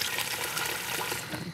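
Cold water pouring steadily into a pot of brown beef stock, a continuous splashing trickle heard close up with no talk.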